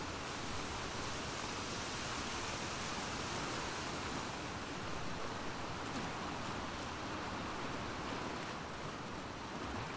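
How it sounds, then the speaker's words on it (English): A waterfall in The Last of Us Part II video game, heard as a continuous even rush of falling water, a steady broadband roar that holds at moderate level the whole time with no speech. "Oh wow, a waterfall."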